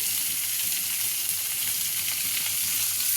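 Onions and green chillies frying in a pan with cumin, a steady loud sizzle that holds evenly throughout, close up with no talking.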